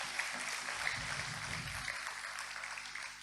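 A small congregation at a Sunday church meeting gives a soft, brief round of applause, faint and somewhat distant in a quiet room.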